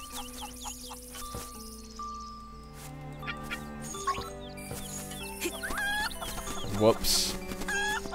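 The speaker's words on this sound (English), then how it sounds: "Come with us, chicken." A chicken in The Legend of Zelda: Link's Awakening clucks in quick, repeated bursts over bright chiptune-style game music and effects, with a player briefly speaking partway through.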